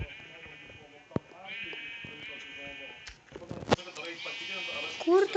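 Sheep in the Minecraft video game bleat in several repeated wavering cries, with sharp game clicks and sounds around them while a person talks over the top.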